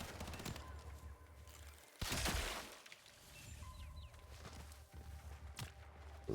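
Automated turret firing in the video game Warframe, rapid bursts of gunfire with a loud blast near the two-second mark, over footsteps and game ambience.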